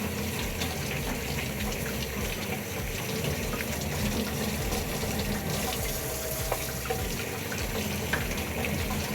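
Potatoes rinsed under a running kitchen tap, with a steady, close stream of water splashing continuously throughout and no talking.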